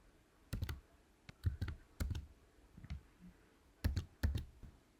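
Computer keyboard typing while code is edited on a server, in short irregular bursts of crisp, close key clicks with quiet pauses between them.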